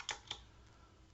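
A few quick, faint keystrokes on a computer keyboard while typing a ping command at a command prompt: two close clicks near the start and one more at the very end, over a quiet background.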